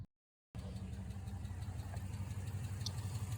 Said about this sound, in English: there's this little tick sound that comes off the Hemi. It's normally in one of the first couple cylinders